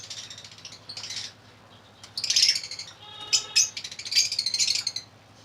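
Lovebirds in a large high-mutation breeding setup chirp and tweet in bright, repeated bursts, close and fairly loud, with a low steady hum underneath and a short ratcheting trill in the middle.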